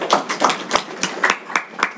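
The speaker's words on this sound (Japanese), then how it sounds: "拍手お願いします。" A small audience at an evening lecture gathering claps in a short burst of steady, evenly spaced claps, close and fairly loud, with no other sound.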